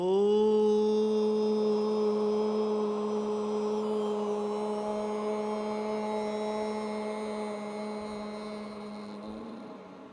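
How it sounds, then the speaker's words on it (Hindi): A single long, deep sustained Om chanted after a deep breath in one unbroken breath, steady and resonant, slowly fading toward the end. "गहरी सांस लेते हैं, फिर ओंकार का ध्वनि करते हैं"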